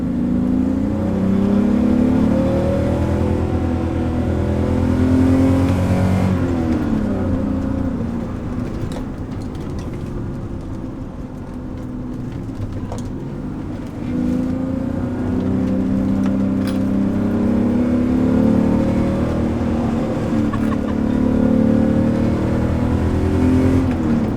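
A BMW E30 with a swapped-in manual transmission accelerating on the road, its engine note rising through the revs, dipping briefly as if between gears, then climbing again, loud and close inside the car.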